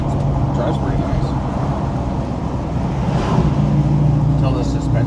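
A classic car fitted with Holley Sniper fuel injection drives along with a steady low engine and road rumble and some wind, swelling slightly louder near the end, with voices talking over it.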